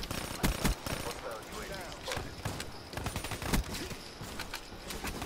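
Dense automatic gunfire in Call of Duty: Black Ops 3, overlapping bursts and single cracks from several weapons at once, loud and chaotic, with a voice talking over the shooting.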